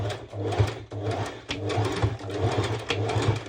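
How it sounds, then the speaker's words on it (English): A sewing machine runs a straight stitch in short bursts, its low motor hum broken by brief stops, close and clear. "And I'm going to do at first a straight stitch."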